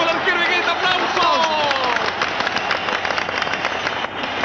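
A large stadium crowd at a World Cup football match applauds goalkeeper Higuita, producing a loud, steady wash of clapping and crowd noise that holds throughout, with a commentator's voice running over it.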